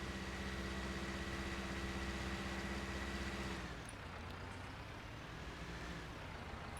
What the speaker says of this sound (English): we're going to bring this in and back it in next to our other Fendt tractor